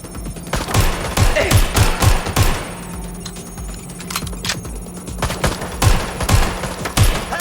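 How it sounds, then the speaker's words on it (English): Rapid bursts of gunfire in the Watch Dogs Legion video game, loud automatic volleys and single shots cracking close in uneven clusters, with a short lull midway before the firing resumes. "I'm getting shot at here."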